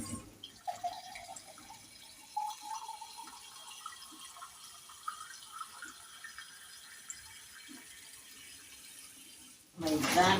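A glassful of water tipped into a pot of rice and potatoes for pilau, a soft continuous pouring trickle with small splashes, close by and fairly quiet, ending in a sudden louder rush.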